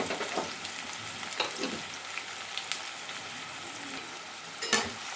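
Onions fry in a pan with salt, a soft, steady crackling sizzle close by, with a few brief louder scrapes of stirring and no talk.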